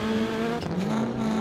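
Rallycross cars race at Pembrey, with a Mitsubishi drifting off the line onto the grass and back. A loud, continuous engine drone holds a steady pitch, then shifts briefly as revs change.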